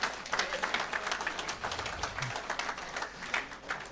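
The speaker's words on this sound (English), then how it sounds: "Can you clap for Senior Datson?" A conference audience breaks into steady applause, many hands clapping together in a dense, even patter that fills the hall without pause, with no speech over it.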